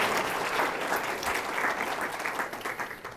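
An audience claps after a speaker's introduction at a talk on sustainable energy engineering. The applause is full and continuous across the room and tapers off near the end.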